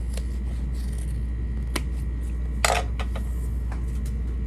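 Scissors trim the fabric seam allowance at a zipper tab on a handmade toiletry bag, giving a few sparse, crisp snips and clicks over a steady low hum, with one sharper, louder cut near the end.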